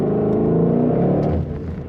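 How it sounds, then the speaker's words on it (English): A 2021 Ford Mustang Shelby GT500 with Carbon Fiber Track Pack revs briefly, a raspy exhaust note rising then settling back toward idle, close and fairly loud. "This car sounds amazing. If you like that raspy exhaust note, as I would define it, that is what it has."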